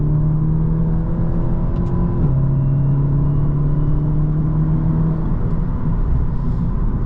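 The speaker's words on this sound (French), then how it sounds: "on sent que le moteur il est volontaire et qu'il a vraiment envie de pousser en fait" An Audi S3 8V sedan, phase 1, pulls hard through a series of corners, its engine holding a loud, steady droning note from inside the cabin, with a brief dip at a gear change before the note climbs again.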